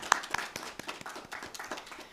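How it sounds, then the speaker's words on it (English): Scattered applause at a Centennial School District 28J ceremony honoring student athletes, sparse distinct claps from a modest crowd, fairly faint and uneven. "Can we all have a round of applause?"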